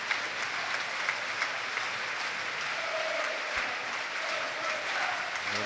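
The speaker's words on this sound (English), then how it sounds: "Clapped all the way, as is Dozzell" Football supporters applaud steadily as a substituted player walks off during Portsmouth versus Leeds United, a broad, even wash of stadium clapping heard from a distance.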